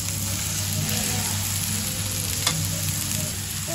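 Hasa hasa fish sizzles steadily in a hot pan of sautéed ginger and oil, a dense, even crackle close by, with one faint clink partway through.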